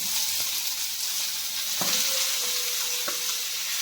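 Grated carrot frying in ghee alongside lightly browned dry fruits for gajar halwa, a continuous bright sizzle with a few sharp scrapes and taps of a spoon against the pan, no voices.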